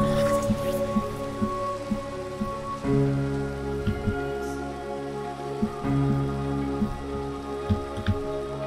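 Steady pattering rain in Minecraft, with a continuous hiss and repeating low thuds over a droning tonal background.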